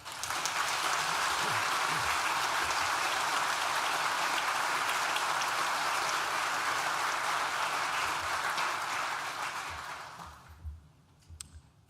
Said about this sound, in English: Please join me in thanking them with a well-deserved round of applause.